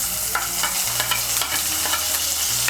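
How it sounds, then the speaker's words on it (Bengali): Spoon stirring ginger paste and green chili paste as it fries in a pan for vegetarian capsicum paneer, a steady sizzle with scraping strokes, close and continuous. "আদা বাটার কাঁচা লঙ্কা বাটাটাকে মিশিয়ে নেব।"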